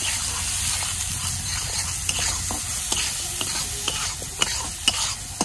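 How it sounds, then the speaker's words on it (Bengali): Ground spices, turmeric and fish masala among them, fry in oil in a pan: a close, steady sizzle broken by repeated sharp scrapes and taps of a spoon stirring the mixture, with no speech. "এখন মশলা আমি তেলের মধ্যে ভাজা নিয়ে"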